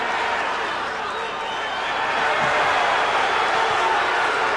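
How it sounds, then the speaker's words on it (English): Boxing arena crowd at the Kim Duk-koo versus Ray Mancini fight, a loud, steady roar of cheering that swells slightly partway through, with no break. "Crowd coming alive here, the Mancini partisans"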